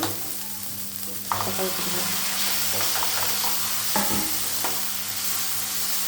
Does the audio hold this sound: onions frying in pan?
yes